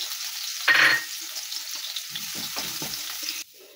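Garlic hits hot oil in a frying pan with a sudden loud burst of sizzle, then settles into a steady crackling fry with a few stirring scrapes before cutting off.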